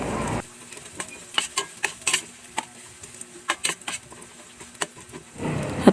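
Onions go into a pan of oil with golden-brown garlic and ginger and start sizzling, with scattered clinks and scrapes of a utensil as the mixture is stirred.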